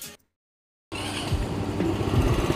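A brief cut-off sound, a short silence, then a Rusi Force 150i four-valve scooter engine idling steadily and fairly close, with a slightly rising rumble.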